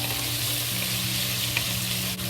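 Sausage slowly frying in oil in a pan for fried cauliflower, a steady close sizzle with low humming underneath, continuous and even throughout with no voices.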